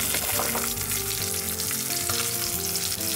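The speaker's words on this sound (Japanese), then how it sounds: "このまま弱火で低温焼き、皮目をパリッと焼き上げていきます。" A fish fillet pan-fries skin side down in oil over low heat, giving a steady, close sizzle with a faint crackle, under what sounds like soft background music.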